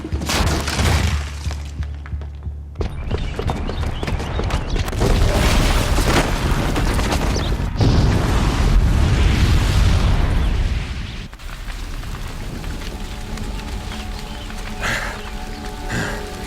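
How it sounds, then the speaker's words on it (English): Booby-trapped bomb exploding in Horizon Zero Dawn, a loud sustained blast with crashing, shattering debris and rumbling that rolls on for several seconds before settling into a lower, steady roar. "the booby trap on the bomb downstairs is gonna get set off"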